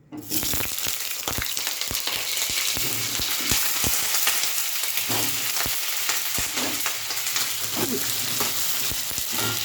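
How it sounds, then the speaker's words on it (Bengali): Slices of pointed gourd (potol) fry in hot oil over a lowered flame, a dense, constant crackling sizzle close up, dotted with sharp pops and spatters, with no voices. "তেল গরম হয়ে গেছে, গ্যাসটা আমি কমিয়ে নিয়ে পটলগুলো আমি দিয়ে দিই।"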